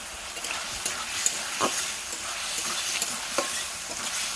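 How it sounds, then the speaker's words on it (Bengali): Potato pieces fry in oil with spice paste for a fish-head curry, a steady close sizzle broken by repeated scraping stirs of a spoon against the pan, with no voices. "আলুটাও মশলার সঙ্গে কষে নেবো ভালো করে।"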